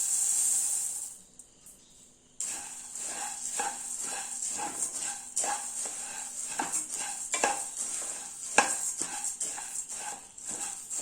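Coriander seeds are stirred with a spoon while roasting in a pan with roasted gram. The scraping and clinking is close and continuous, with a few sharper taps against the metal.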